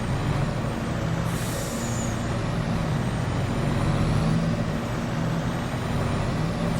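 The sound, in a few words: truck with air brakes in Farming Simulator 22 video game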